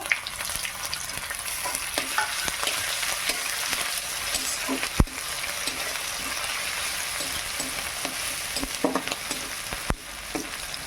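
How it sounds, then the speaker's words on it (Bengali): Onion, bay leaf and ginger fry in hot oil, giving a steady close sizzle with scattered sharp pops and stirring clicks throughout. "পেঁয়াজটা ভাজা হয়ে গেছে তেজপাতা দিয়ে দিলাম আর দেব আদা"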